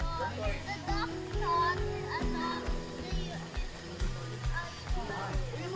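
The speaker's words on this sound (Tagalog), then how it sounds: "Some kids are playing. Some kids are on the swing." Children play and shout at a campsite at night, a busy mix of overlapping young voices, squeals and calls at mid distance, with footsteps and a steady background hum underneath.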